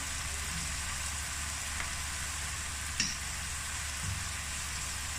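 Minced-meat masala sizzles and fries steadily in a pan as vinegar goes in, a constant close hiss with a couple of faint clinks and no talking.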